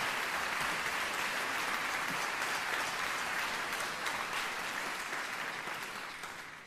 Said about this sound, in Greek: Ένα χειροκρότημα τώρα είναι το χειροκρότημα.